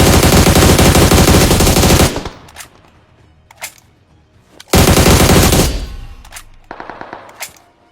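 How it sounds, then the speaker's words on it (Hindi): Rapid automatic gunfire in a video game squad fight, two loud sustained bursts separated by a quieter gap with a few isolated distant shots and echoing tails. "तभी मेरे को गन साउंड आता है मेरे सामने से।"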